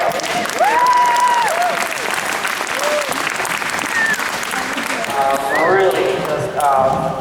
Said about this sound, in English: So, yeah, definitely deserves a round of applause.